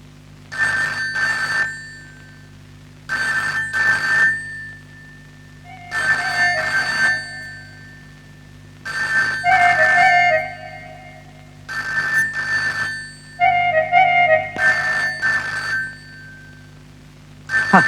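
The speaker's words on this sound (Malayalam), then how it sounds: "എത്ര നേരമായി ഫോൺ അടിക്കുന്നു, അതൊന്ന് എടുക്ക്." A telephone rings in repeated double bursts with short silent gaps, about seven rings, clear and fairly close.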